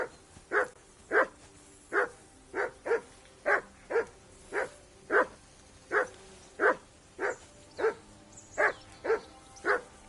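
A dog barks repeatedly in the medieval role-playing game Kingdom Come: Deliverance 2, about fourteen evenly spaced woofs over ten seconds, steady and fairly close, with no talking between them.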